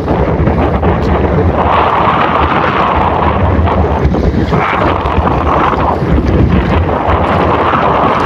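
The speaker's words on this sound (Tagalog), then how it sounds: "kasi malakas ang hangin ngayon, mga amigo, at parang lumakas na naman ang amihan" Strong northeast monsoon wind at sea in the Camiguin Sea roars continuously and loudly against the microphone, with a low rumbling buffet and rushing water underneath, gusting slightly stronger in the middle.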